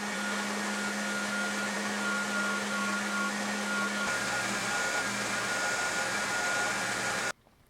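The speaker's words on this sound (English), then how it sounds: "I'll head to the grinder where I'll trim the whole thing to the profile of the handle" A grinder trims the pieces of a firefighter's wrecking knife, made from pants, down to the handle profile. It runs as a steady, loud whir for about seven seconds with a low hum that shifts pitch midway, then cuts off abruptly.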